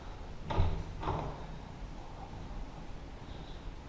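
A newly installed door in a drywall wall is opened and shut, giving two close, solid knocks about half a second apart before the room goes quiet.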